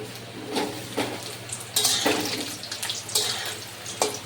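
Potatoes going into hot white oil in a wok and being stirred, with bursts of hissing sizzle and scraping clatters at irregular moments, close and moderately loud.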